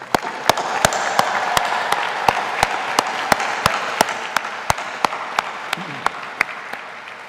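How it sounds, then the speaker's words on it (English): A graduation ceremony crowd applauds graduates, a steady, full round of clapping punctuated by loud, evenly spaced sharp claps close by, sustained for the whole stretch. "Please join me in a well-deserved round of applause for their outstanding accomplishments"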